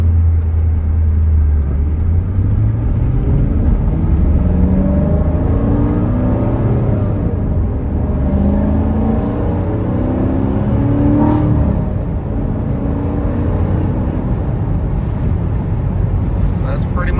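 Corvette V8 with long-tube headers, X-pipe and active exhaust valves closed, a deep subdued rumble that swells and falls as it revs, close and fairly quiet.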